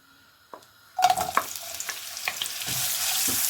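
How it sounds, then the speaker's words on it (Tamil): Onions frying in hot oil for vegetable Hakka noodles: a sudden loud sizzle as they hit the pan, then steady crackling frying with stirring clinks, close and without speech. "இந்த சூடானதுக்கப்புறம் நம்ம வந்து இந்த வெங்காயத்தை போட போகிறோம்."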